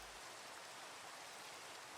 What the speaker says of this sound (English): even the rain looks pretty gorgeous